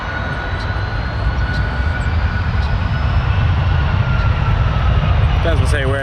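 A jet airliner takes off from runway 23 at Toronto Pearson airport, a loud, steady broadband roar that holds throughout, with a brief voice near the end.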